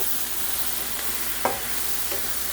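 Brussels sprouts and mushrooms seasoned with salt, pepper, garlic powder and onion powder cook down in a pan with a steady, soft sizzle, broken once by a brief stirring scrape.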